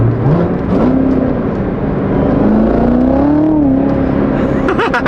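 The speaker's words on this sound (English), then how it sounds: "the C7 should be warmed up enough. Let's go ahead and take her around the block." A Chevrolet Corvette C7 engine pulling away, heard from inside the car as a loud, steady drone whose pitch rises and eases as it shifts and accelerates around the block, with a brief voice near the end.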